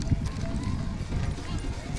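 Horse hooves clip-clop steadily on the street during the Santa Barbara Fiesta historic parade, a continuous trotting rhythm under crowd noise and talk.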